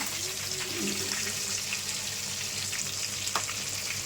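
Chicken full joints fry in hot oil in a pan, giving a steady, dense sizzle with faint stirring and turning sounds, close and continuous with no talking.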